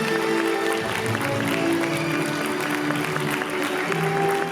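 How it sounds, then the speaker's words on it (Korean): Dense, steady applause from wedding guests in a convention hall blessing the couple after the mothers bow to each other, sustained and fairly loud throughout with a bright crowd texture. "축복의 박수 하겠습니다."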